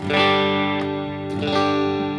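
An electric guitar with three pickups sustains a ringing chord alone, and its tone shifts twice as the player switches from the bridge pickup toward the neck pickup, growing progressively darker.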